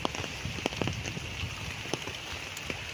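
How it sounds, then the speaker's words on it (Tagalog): Heavy rain falling on a farm lot planted with young coconut and lansones trees in Magdalena, Laguna, a dense close patter with scattered drops striking nearby surfaces. "lumakas na ang ulan oh"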